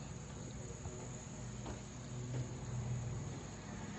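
Honey bees buzz steadily throughout around a honey extractor, with faint knocks and a low rumble underneath; no one speaks.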